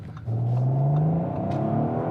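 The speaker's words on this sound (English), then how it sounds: "you get some nice little sort of pops and bangs from the" A 2021 Audi RS4 estate accelerates hard, its engine note climbing steadily and filling the cabin, with faint crackling pops from the exhaust riding under the continuous drone.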